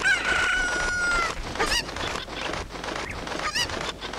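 A Cucco chicken in Zelda: Ocarina of Time squawks and clucks over game music and effects, a few loud near calls with no talk.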